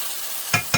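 A spoon stirs a pot of black-eyed pea soup with okra, made without pork. Two short, close knocks and scrapes come over a soft, even background hiss.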